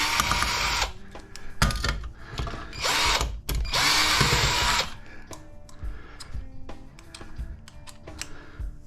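A power drill backs Phillips head screws out of a scrap electronics board, whirring close in several loud bursts of about a second each, then fainter clicks and rattles of parts being handled.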